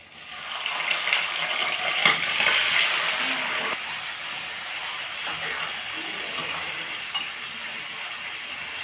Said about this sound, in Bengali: এবার আমি পেঁয়াজগুলো তেলে আস্তে আস্তে দিচ্ছি।